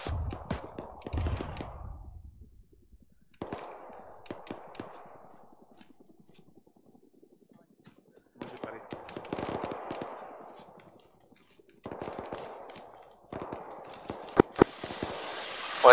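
Video game battle on Hill 179 with bursts of machine-gun and rifle fire, crackling volleys coming in separate clusters with quiet gaps between them, sharp and fairly close.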